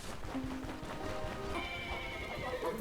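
Horses neigh and whinny at a camp in the video game Stoneshard, with clip-clopping hooves, a steady moderate loop of horse sounds and no talk.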